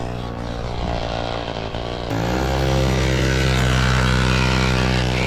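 A Yamaha PW50 dirt bike's small two-stroke engine runs steadily at close range, buzzing loudly and then jumping to a higher, louder idle about two seconds in, with no talk over it.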